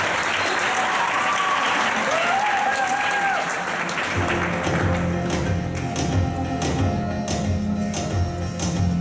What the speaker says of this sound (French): On l'applaudit, on l'encourage.